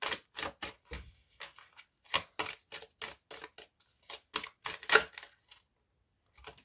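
Oracle cards are drawn and handled from a deck, making a series of sharp, close clicks and snaps in irregular bursts with quiet pauses between them.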